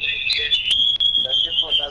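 An iPhone 6 alert tone rings out as a sustained high electronic beeping, loud and close, with a couple of sharp clicks and a voice speaking briefly near the end.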